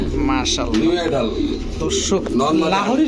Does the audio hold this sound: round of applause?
no